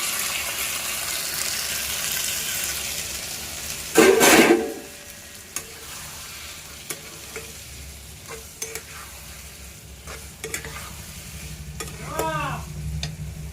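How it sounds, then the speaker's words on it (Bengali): Boiled lentils poured into sizzling fried spices in a pan, bursting into one loud sharp hiss that quickly settles into a softer simmering crackle with scattered stirring clinks and scrapes. "আমি এবার এই তরকাগুলো ঢেলে দিচ্ছি।"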